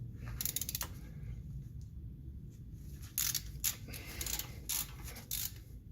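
A ratchet works loose the brake caliper screws on a Toyota Camry, with short bursts of faint clicking over a steady low background hum, no talking.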